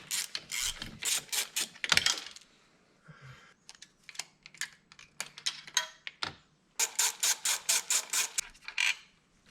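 A hand ratchet removes 12mm bolts from the intake manifold of a Subaru STI, producing bursts of quick, close clicking pawl strokes separated by short pauses and handling noise.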